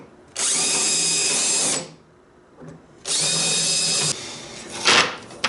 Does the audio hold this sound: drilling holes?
yes